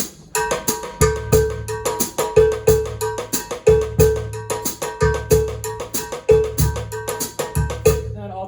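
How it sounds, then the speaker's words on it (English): An Afoxe pattern struck on a drum-kit bell, bright metallic hits in a repeating syncopated rhythm with kick-drum thumps underneath, close and fairly loud, no talk. "But this is the pattern. It's kind of a specific bell pattern."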